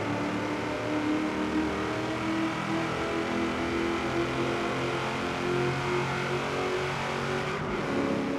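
A Chevrolet SS engine in the video game Forza Horizon 3 roars and revs continuously inside a tunnel, echoing with a hollow, enclosed resonance, loud and sustained throughout.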